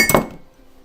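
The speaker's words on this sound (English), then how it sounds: "Knocked over my water glass. Don't worry, it was empty." An empty water glass is knocked over, giving one bright clinking knock that rings briefly and fades quickly, close and fairly loud, heard alone.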